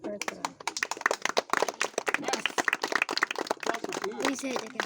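A crowd gathered in a village around a street magic performer claps hands in quick, uneven bursts, fairly close, mixed with people talking throughout.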